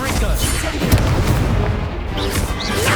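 Confringo fire spell blasting in Hogwarts Legacy on PS5, a few booming explosive hits layered over game effects and a shouted incantation, loud and dense.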